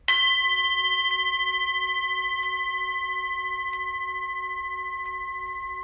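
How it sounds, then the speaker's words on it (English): A single bell struck once in a quiet room, its clear ringing tone sustaining and slowly fading over several seconds with faint re-strikes of shimmer, heard alone without talk. "I'm going to listen to the sound of this bell"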